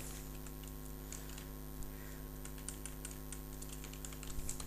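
HTML and CSS code is typed on a computer keyboard in uneven bursts of faint, quick key clicks over a steady low electrical hum, in a quiet room with no talking.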